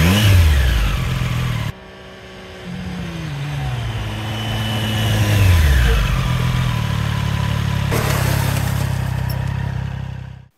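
Triumph Street Triple RS motorcycle engine pulling hard through the gears, loud and close, with a rising whine, sharp drops at each shift, then a sustained high-revving roar.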